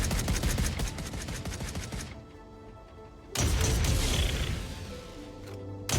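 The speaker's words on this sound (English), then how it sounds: "testing, for example, these proof-of-concept automated turrets" Automated turrets fire in the space game Fount and Shade in rapid sustained bursts, a loud rattling barrage that drops away briefly and then resumes just as hard.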